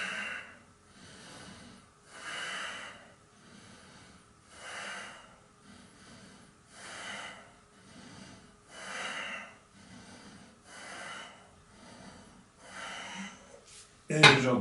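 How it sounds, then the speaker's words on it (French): Slow, steady breathing held in a yoga pose: about eight even inhale-exhale cycles, close and soft, with a sharp knock at the very end. "Et je respire."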